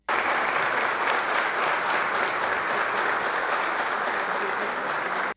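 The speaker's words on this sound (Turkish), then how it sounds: "Yeminin ardından CHP'li vekiller Baykal'ı ayakta alkışladı" CHP deputies in the Turkish parliament give Baykal a standing ovation, a dense, steady roar of many hands clapping at once, loud and continuous for about five seconds before cutting off abruptly.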